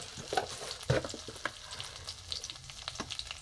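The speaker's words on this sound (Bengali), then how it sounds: "ফোড়নটা ভাজা ভাজা হয়ে গেছে। এতে আমি আদা গ্রেট করা আছে দিয়ে দেবো।" Grated ginger dropped into hot oil with tempering spices such as bay leaf, frying and sizzling in a pan for a gourd dal, with a few clinks of a stirring spoon; close and fairly quiet, no talking.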